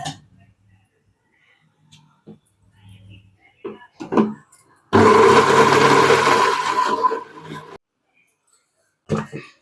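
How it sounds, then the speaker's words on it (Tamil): A mixer grinder grinds coconut with a little water, whirring loudly for about three seconds, a harsh motor roar between short bursts of quiet speech. "கொஞ்சம் தண்ணி விட்டு அரைச்சிக்கலாம்."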